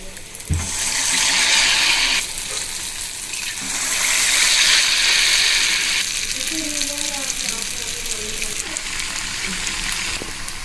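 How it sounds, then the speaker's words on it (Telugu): Mysore bonda batter balls fry in hot oil, with a loud, continuous close sizzle that swells and eases in waves and a brief clatter near the start. "ఆయిల్ వేడైన తర్వాత మైసూర్ బోండాని ఇలా వేసుకోవాలి."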